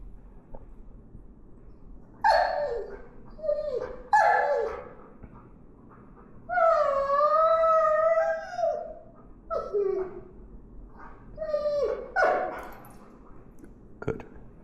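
A dog being corrected for learned aggression barks, yips, whimpers and lets out a long wavering howl, in several separate bursts with quiet gaps between, close to the microphone with no talking.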